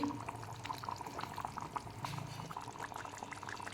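A pot of dry mango and ladies finger vathal kulambu bubbling on the stove, a steady soft simmer of popping and gurgling liquid with brief splashy bursts, close and moderately quiet throughout.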